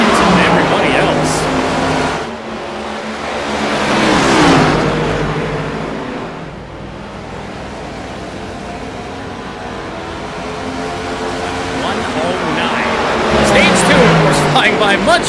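NASCAR race cars in the iRacing game roar past at an All-Star race, engine tones rising and falling as cars sweep by in waves, loud and close beneath continuous commentary from a voice talking over the racing.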